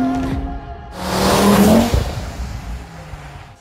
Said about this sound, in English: The turbo noises.